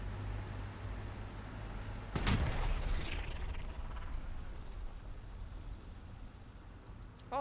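A single loud rifle shot from a Soviet scout in the World War II video game Hell Let Loose, a sharp crack followed by a fading echo over low rumbling background noise.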